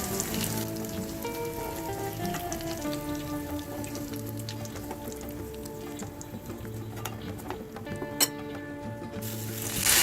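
Prawns for a Kerala-style chemmeen roast sizzle and spit steadily in a hot pan, a continuous close frying hiss with soft background music running underneath.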